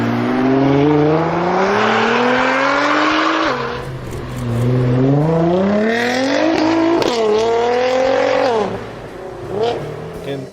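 A supercar's 3.8-litre twin-turbocharged V6 revs hard, its engine note climbing through several gears with sharp drops between shifts, loud and close, with a little tire noise.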